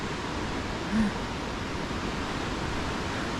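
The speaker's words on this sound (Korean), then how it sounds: "와우, 물소리." Steady broadband rush of running water, likely a stream beside a rainy winter trail on the Camino, continuous and fairly loud with no clear breaks and a brief faint bump partway through.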